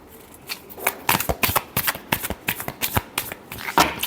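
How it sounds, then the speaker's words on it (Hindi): Tarot cards riffled and shuffled by hand in a quick, crisp series of snapping flutters lasting several seconds, close and clear with no talking. "last shuffle"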